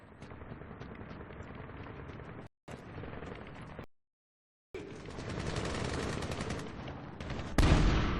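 Rapid gunfire from the Medal of Honor video game crackles in loud sustained bursts, broken by brief dropouts, with heavier blasts toward the end and no talking over it.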